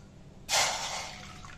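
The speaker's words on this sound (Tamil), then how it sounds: "இதில் வந்து நம்ம ஒரு கிளாஸ் தண்ணி ஊற்றிக்கிடுவோம்" Water poured into a small tea glass in a home kitchen, a sudden splashing rush that starts abruptly and then tapers off over about a second, close and without talk.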